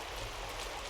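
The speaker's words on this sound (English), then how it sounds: "No more walking through waterfalls." Waterfall in The Witcher 2, a dense steady rushing wash of falling water, continuous and even, fairly faint.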